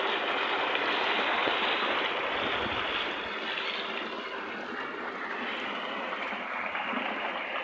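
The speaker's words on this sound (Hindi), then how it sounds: "पानी चल रहा है आप देख सकते हैं, लेकिन पानी कम है क्योंकि सूरज की रोशनी नहीं है।" Water flowing from the pipe of a solar-powered pump running low under cloudy skies, a steady rushing hiss that continues evenly throughout.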